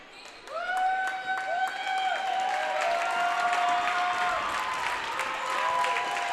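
The Buckeye Central crowd stands cheering and applauding at a girls basketball regional semifinal, sustained clapping and shouts filling the gym, with sneaker squeaks cutting through and a voice talking over the noise.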